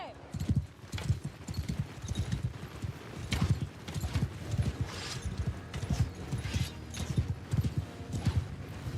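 Horse hooves clip-clop steadily in a video game, an even rhythmic trot heard close with faint mechanical background. A voice talks briefly over it.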